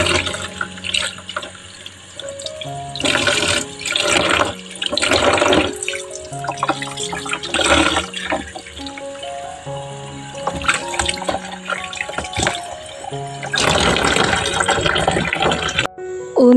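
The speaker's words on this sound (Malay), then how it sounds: "Lepas kita rendam guna air asam jawa, kita cuci lagi sekali lah bagi bersih." Tap water runs and splashes as cencaru fish are rinsed clean in a kitchen sink, in several loud bursts of flowing water with pauses, plus clinks and handling noises between them.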